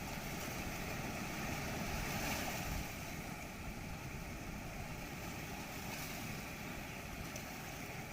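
The swollen Kali Sindh river, flooded after heavy rain, rushes around a half-submerged temple with a continuous broad roar that holds steady throughout, mixed with wind buffeting the microphone.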